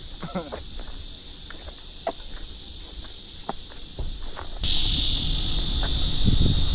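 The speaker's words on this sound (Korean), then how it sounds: "아, 매미 있다, 매미 있다." A high, steady insect buzz, like a cicada, hums throughout and swells louder near the end, with scattered footsteps and soft sounds nearby.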